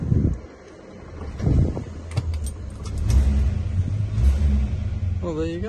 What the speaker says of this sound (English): she's just chuffing out that exhaust manifold a little bit